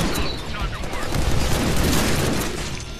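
Dense, sustained bursts of rapid gunfire from a Deadpool video game, loud and chaotic, with booming impacts layered through the whole stretch and a near-constant wash of noise.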